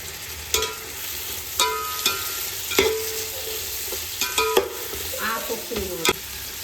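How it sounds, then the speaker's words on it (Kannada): Mint, coriander and fenugreek leaves fry with tomato and onion in a pan, a steady sizzle broken by sharp scraping stir strokes at irregular intervals for mutton biryani, with no voices. "ಈ ಸೊಪ್ಪುಗಳನ್ನು ಹಾಕಿ ಒಂದು ಸ್ವಲ್ಪ ಫ್ರೈ ಮಾಡಬೇಕು."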